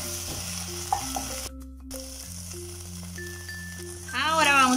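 Onion and tomato sauce gets stirred in a frying pan, with a soft sizzle and light scraping and rattling of the utensil. A voice talks over it, with a brief drop in level partway through.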